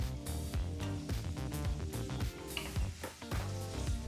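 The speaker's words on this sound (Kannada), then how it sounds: "ಮೀಡಿಯಂ ಫ್ಲೇಮ್ನಲ್ಲಿ ಈರುಳ್ಳಿನ ಫ್ರೈ ಮಾಡ್ಕೋಬೇಕು" Finely chopped onion frying in oil on medium flame, a steady sizzle broken by repeated clinks and scrapes of a spoon against the pan as it is stirred.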